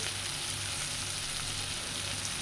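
Chopped tomato and turmeric frying in oil in a pan for a small-fish curry, giving a dense, even, unbroken sizzle that stays loud and close throughout, with no speech.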